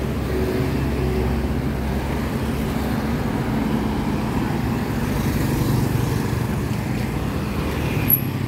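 A bus rumbles steadily past on a road in Surin, Phuket, Thailand, a low continuous engine drone with traffic noise, moderately near and without a clear peak.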